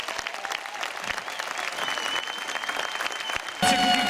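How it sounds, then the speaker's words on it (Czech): Audience applause at a folk concert in Helpa, a steady dense wash of clapping that swells louder near the end. "Veľký potlesk."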